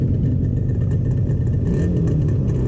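An Ariel Leader 250 motorcycle engine idles and runs steadily up close as the bike pulls off in first gear, a continuous low, throbbing drone at even loudness with no voices.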